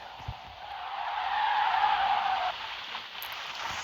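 A car drifts in the video game Car Simulator 2, giving a sustained tire skid that swells for about two seconds and then cuts off, layered over a steady engine drone.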